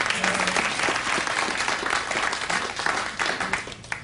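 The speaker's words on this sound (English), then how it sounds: "You clap like that" A late-night talk show studio audience bursts into sustained applause and clapping, loud and steady throughout with a faint voice briefly underneath.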